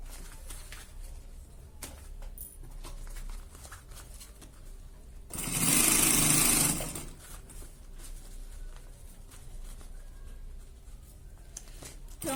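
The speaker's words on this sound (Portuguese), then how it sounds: "Então, uma costurinha bem simples de fazer." A sewing machine stitches around the edge of a bag organizer in one short burst of rapid, buzzing whir, surrounded by quiet room tone with faint handling taps.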